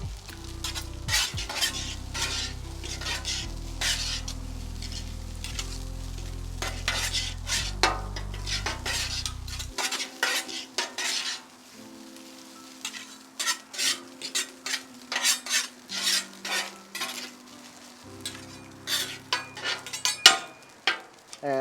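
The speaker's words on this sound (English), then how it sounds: "the garlic and the butter is gonna infuse together, and then it's gonna give a very nice aroma to the fried rice" Hibachi fried rice with garlic and butter cooks on a hot grill, a steady sizzle broken by sharp metal spatula scrapes and clanks, dense at first, then sparser rhythmic tapping and scraping with no talk.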